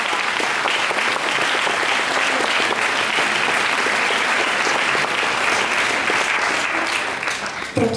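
An audience at a school's 150th anniversary talk show claps together in sustained, dense applause that stays loud and steady for about eight seconds, thinning slightly at the very end.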